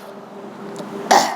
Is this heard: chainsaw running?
no